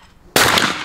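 A single sharp shotgun blast at clay pigeon shooting cracks out suddenly after a quiet moment, loud and close, with its report decaying quickly.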